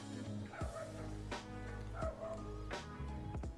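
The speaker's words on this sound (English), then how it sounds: "Those dogs are very loud." Several dogs give loud, happy barks in three separated bursts, about one every second or so, heard fairly close with no talking.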